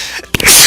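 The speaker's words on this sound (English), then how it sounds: "Worst time to sneeze." A single sharp, loud human sneeze bursts close up, a quick intake followed by an explosive breathy release, during a Kirby's Return to Dreamland gaming session.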